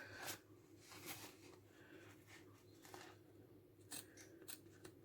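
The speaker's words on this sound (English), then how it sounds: "So I'm just going to be cutting like a triangle." Scissors snipping through fabric, cutting a triangle shape for a placket: a series of quiet, close crisp snips at an uneven pace.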